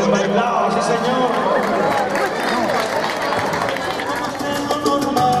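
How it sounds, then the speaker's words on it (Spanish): A studio audience claps and cheers after a Latin dance performance on a local TV show, a steady, dense wash of applause and crowd noise filling the whole stretch, loud and continuous. "aplauso, bien bailado, sí señor."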